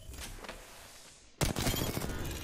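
Gunfire in the video game Apex Legends: a sudden loud burst of rapid shots cuts in halfway, following a quieter stretch of game ambience.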